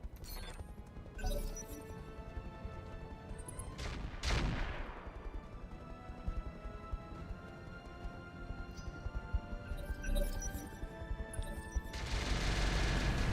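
Mortar fire rains down in the mech video game Roguetech, heard as repeated heavy blasts and crashing impacts. Several loud bursts stand out over a constant rumble of battle noise, with a dense barrage building toward the end.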